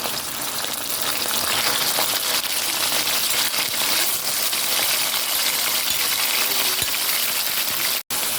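Pork sizzles loudly in a pan with garlic and onion, a dense, steady crackle of frying close up that runs without pause until a brief cutoff near the end.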